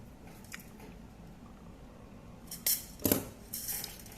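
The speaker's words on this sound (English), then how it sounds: "We're going to snip 2 pieces of 10 inches." Jewelry wire is snipped into pieces with cutters, giving a few sharp, close clicks and snips near the end of a quiet stretch.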